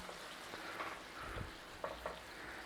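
Stock is stirred into a chicken sauce in a pan with a faint, gentle simmering sizzle and a few soft spoon clicks and scrapes.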